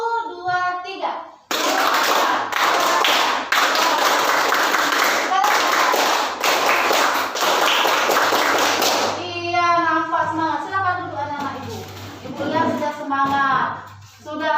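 A classroom group claps a counted rhythm pattern together, loud sharp bursts of clapping in steady grouped beats for several seconds before a teacher's voice takes over with speech.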